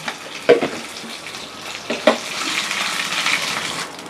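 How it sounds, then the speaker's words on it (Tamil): A tempering of mustard seeds, urad dal, shallots, curry leaves and dried red chilli sizzles in hot oil, with sharp crackles and pops over a steady frying hiss, heard close. "எண்ணெய் காஞ்சிருச்சு கடுகு உளுந்து ஒரு ஸ்பூன் போட்டுக்கலாம்"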